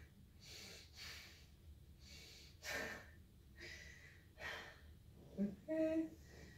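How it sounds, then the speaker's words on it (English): A patient breathes in and out deeply several times during a lung exam, each breath heard as a soft, close, airy rush at a slow, regular pace, with a few faint beeps near the end. "Take a deep breath for me."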